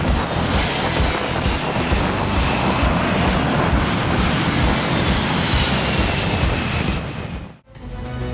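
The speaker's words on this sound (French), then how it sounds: "les avions de l'armée de l'air australienne ont décidé de faire un spectacle pour les gens en bas, en survolant le littoral à seulement 90 mètres du sol" Australian Air Force jets flying low over a coastline at about 90 metres, a loud, sustained roaring engine wash that holds steady before dropping away briefly near the end.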